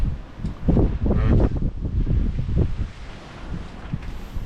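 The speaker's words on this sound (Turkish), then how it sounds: "Evet rüzgar çıkmış." Gusty wind buffets the microphone in uneven rumbling bursts, easing off toward the end.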